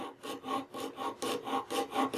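Rhythmic strokes of a hand scraper shaping and rounding carved wooden reeds on a bed post, about nine close, evenly paced rasping passes in quick succession with no voices.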